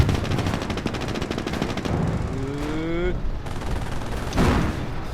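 WWII strategy video game battle with rapid machine-gun fire and an M10 tank shooting, dense and loud throughout, with a rising whine, a heavier boom near the end and game voices mixed in.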